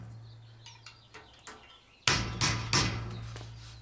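A series of sharp taps followed by three louder, ringing strikes as a plastic end cap is hammered into a metal bed rack rail on a Toyota Tundra, close and isolated.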